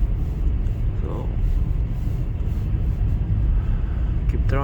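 Steady road rumble and engine drone from a car driving through snow on an Icelandic road during a December snowstorm, loud and continuous with faint wind.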